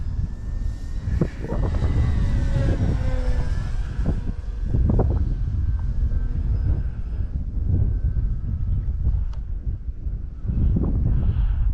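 An H.King Frenzy 1400mm RC trainer airplane makes a full-throttle pass, its electric motor whining loudly with a rising and falling drone as it sweeps by, accompanied by buffeting wind noise.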